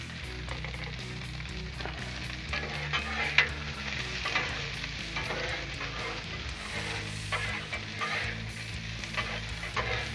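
Sliced peppers and onions sizzle in oil on a Blackstone griddle, a steady close frying hiss with occasional crackles and spatula scrapes throughout.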